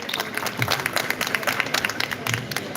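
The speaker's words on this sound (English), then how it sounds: "Can we have a bigger round of applause for SPIL?" A round of applause from an audience at a pharmaceutical company's stage event at a chemical trade expo, with dense, steady clapping that stays fairly faint and even throughout, mixed with some crowd noise.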